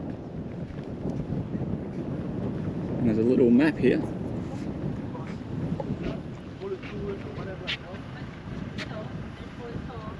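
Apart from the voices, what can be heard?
wind blowing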